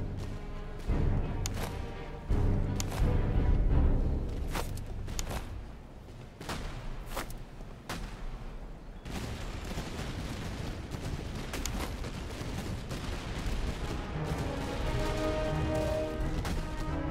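Rapid volleys of booming cannon fire in the game Master of Command, bursts overlapping with crashes and explosions in a dense, continuous barrage.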